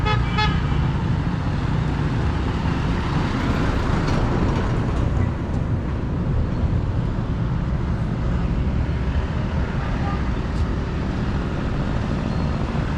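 Busy street traffic of jeepneys and taxis at an intersection in the Philippines, with a steady dense rumble of engines, a few short horn toots near the start and no clear talk.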